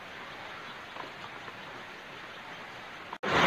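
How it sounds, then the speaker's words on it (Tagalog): Rain falls steadily in a soft, even hiss with a few scattered drop taps, then a brief dropout and a louder burst of noise at the very end. "Itong ulan."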